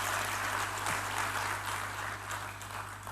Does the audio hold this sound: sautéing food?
no